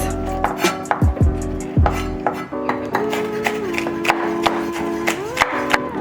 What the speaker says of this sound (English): So now I'm just dicing my green peppers.